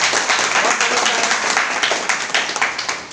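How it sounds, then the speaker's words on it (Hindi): Audience at a Smart Value Limited company seminar breaks into brisk, continuous applause, a dense wash of clapping heard up close with little else. "लिमिटेड के लिए एक जोरदार तालियां बजाएं।"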